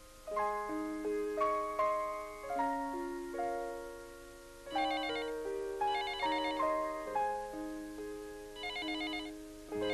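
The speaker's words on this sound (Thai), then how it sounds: "เช้าวันเสาร์ที่เงียบสงบ ฉันได้รับโทรศัพท์สายหนึ่ง" A telephone rings with a melodic electronic ringtone, bright chiming note patterns repeating in bursts over ten seconds, loud and close, with no voices.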